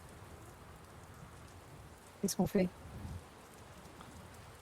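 Steady rain ambience from a role-playing game session, a soft continuous patter running throughout with a brief spoken question over it.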